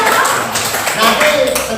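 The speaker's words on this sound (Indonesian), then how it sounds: "Tepuk tangan untuk Anu" A classroom of students applauds for a classmate, a short burst of dense, loud clapping from many hands, close and filling the whole moment.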